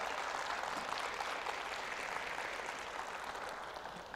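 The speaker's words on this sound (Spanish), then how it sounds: "¿Puede darme un fuerte aplauso, hermanos? Un fuerte aplauso a ellos." A church congregation gives a strong round of applause, a faint, distant, even hiss of many hands clapping that carries on steadily and fades slightly toward the end, with no speech over it.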